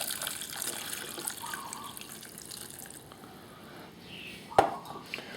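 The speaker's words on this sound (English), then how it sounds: "put 2 cups of water in there" Two cups of water run and splash steadily into a soup pot, with a soft continuous gurgle and one sharp clink near the end.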